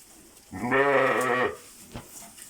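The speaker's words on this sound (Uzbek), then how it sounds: "O'zimiz qo'l bola qilib tayyorlab baqqan qo'ylar." A single loud, wavering sheep bleat close by, lasting about a second, followed by quiet with a few faint clicks.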